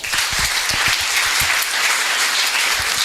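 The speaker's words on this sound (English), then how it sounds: "One last time, a round of applause to Bradley Bailey" A crowd applauds warmly at an outdoor bench unveiling held in honour of Harry Belafonte on the Cape Flats, with dense, steady clapping that holds at full strength throughout.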